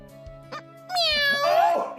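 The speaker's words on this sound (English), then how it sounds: "Holy crap! A talking cat!" A talking cat character in Trails of Cold Steel 3 gives a drawn-out, rising and falling meow, loud and close, over steady low game music, preceded by a few soft clicks.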